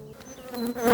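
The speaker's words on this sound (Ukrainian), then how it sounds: "Гляньте, які бджолки обсіли, починають її дочистити, починають її вже кормити." Honeybees buzz close by around a queen placed on honey, a steady insect hum that swells louder toward the end.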